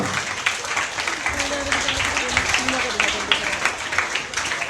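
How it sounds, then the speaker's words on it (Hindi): An audience at a Hindi school quiz quarter-final applauds to welcome a quiz team, a steady round of clapping that carries on for several seconds with faint voices underneath. "जोरदार तालियों से स्वागत कीजिए टीम पंचवटी का"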